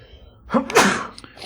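One sharp human sneeze with a quick inhaled build-up and a burst release, close and loud against a quiet room during a podcast conversation.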